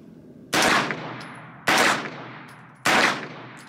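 Three loud, sharp rifle shots are fired about a second apart from a gun with a Taccom short stroke bolt and FM-9 lower, each shot ringing out and fading before the next.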